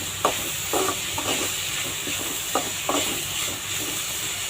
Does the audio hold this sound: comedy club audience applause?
no